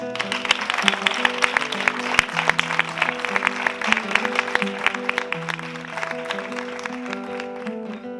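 An audience applauds, the clapping steady and dense at a live evening performance, while sustained tonal music plays underneath.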